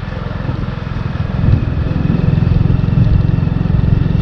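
A motorcycle engine drones loudly and steadily while riding in Hubli, with a throbbing low rumble and a slight swell partway through.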